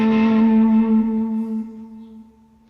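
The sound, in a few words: guitar with distortion, fuzzy muddy delay, reverb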